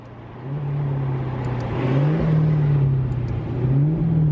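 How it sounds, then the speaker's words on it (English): A Maserati GT engine drones and shifts pitch as it slows and downshifts, a steady mechanical hum rising and dipping over a few seconds. "So let's slow down and downshift."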